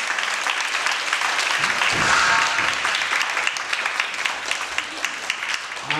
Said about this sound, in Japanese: じゃあもう一回大きい拍手しましょう